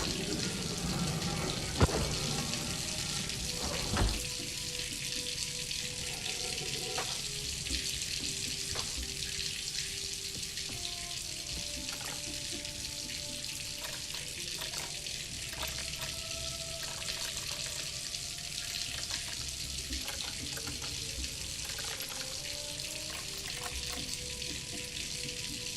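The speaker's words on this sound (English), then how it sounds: "The water's still running" Steady running water in the video game Myst, a constant broadband rush like a flowing tap, heard alone with faint scattered tones and a couple of soft knocks early on.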